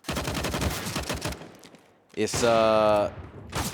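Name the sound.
gunshots in Counter-Strike video game match on Train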